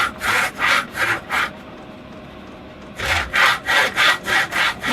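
A hand saw cuts wood trim in an old-school miter box with steady back-and-forth rasping strokes, a short pause, then another quicker run of strokes, close and clear.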